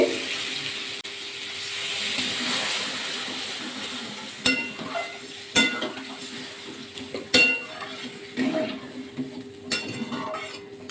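Chana potol curry is stirred in a covered pan, with a metal spoon clinking and scraping against the pan in several sharp, irregular knocks over a sizzling background.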